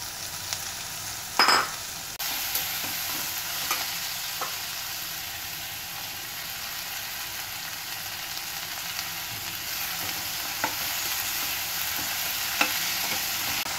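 Radish leaves frying in a pan for a Nagpur-style radish greens dish with turmeric and salt, a soft steady sizzle running throughout, with a sharp scrape of stirring near the start and faint occasional clinks.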